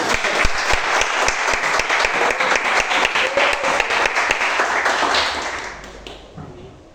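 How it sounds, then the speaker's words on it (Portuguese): A church congregation applauds together during a Portuguese-language evening worship service, sustained dense clapping from many hands at close to medium distance, steady for about five seconds before fading out. "As palmas para o Senhor"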